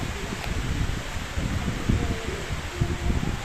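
Strong wind in bad weather roars steadily into a microphone as a broad, gusty rush. Irregular low buffets and rustling come through, with no clear voices.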